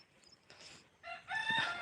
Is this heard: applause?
no